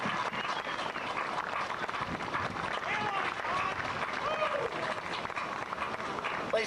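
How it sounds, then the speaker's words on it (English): An outdoor crowd at a 2004 marijuana march rally in Cincinnati, Ohio, applauds a speaker with sustained, dense clapping that holds steady throughout, with some cheering mixed in. "Please give her another round of applause."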